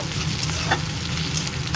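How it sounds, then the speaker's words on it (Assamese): Onions with ginger, hot chillies and garlic sizzle and crackle in a pan while being stirred, a dense continuous frying hiss with scraping, no voices. "এইখিনি এতিয়া অলপ সময় ভাজিম"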